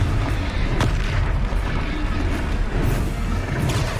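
In the Hogwarts Legacy video game, a Confringo spell sets off a booming explosion amid a dense, continuous barrage of crashing and rumbling combat blasts.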